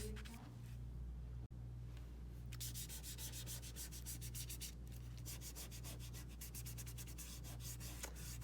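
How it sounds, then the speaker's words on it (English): A finger rubbing chalk pastel on paper to blend a shadow, a soft close scratchy sound that turns into rapid back-and-forth strokes over a steady low hum. "if you have chalk or a chalk pastel, you can blend it with your finger."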